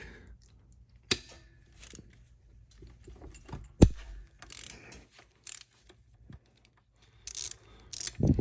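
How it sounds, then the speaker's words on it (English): A hand ratchet clicks while breaking loose engine bolts on a Honda XR650 during a rebuild, giving close, intermittent bursts of ratcheting with a couple of sharp metallic knocks and quiet workshop handling noises between them. "I'm honestly amazed I haven't broken this ratchet yet, just in general."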